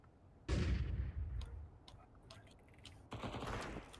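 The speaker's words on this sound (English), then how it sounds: "Deploying flashbang." In Counter-Strike 2, a flashbang grenade goes off amid gunfire: two loud, broad bursts about two and a half seconds apart, with scattered sharp cracks and clicks between them.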